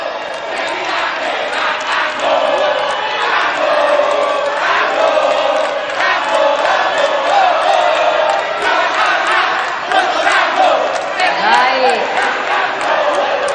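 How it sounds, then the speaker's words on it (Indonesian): A large audience at a gubernatorial debate in Marina Convention Center cheers and shouts in a sustained roar. Whoops and loud crowd voices continue without a break, and scattered clapping is mixed into the noise. "Semua hadirin yang hadir di sini di Marina Convention Center, boleh tepuk tangannya."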